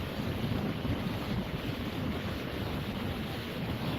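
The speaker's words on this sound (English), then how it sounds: "That water is like, ooh, look at those waves." Stormy surf at a beach, a steady roaring wash of waves under heavy wind buffeting the microphone, loud and continuous throughout with no voices.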